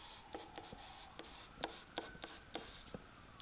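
Marker squeaks and taps on a board during a logic lesson, a quick run of short scratchy strokes and rubbing from erasing and rewriting, close and fairly faint with no talking.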